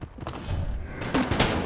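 A grenade launcher fires in the video game Enter the Gungeon, with a quick cluster of punchy blasts and bursts of gunfire in rapid succession.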